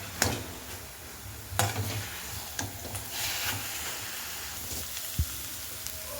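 Carrot halwa sizzles softly as it roasts in a pan, a ladle stirring and scraping through it with occasional sharp knocks against the metal, faint and steady.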